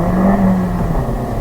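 Suzuki Swift Sport with a turbocharged engine pulling hard in first gear: a loud, close engine drone with a rising whine, brief and continuous, no talking.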